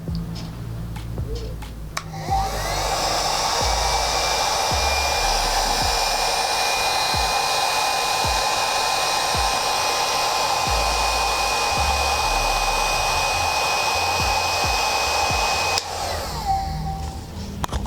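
A loud, steady blowing roar from a 2000 W heat gun on its first setting runs continuously for most of the clip, with a faint high whine, starting and stopping abruptly.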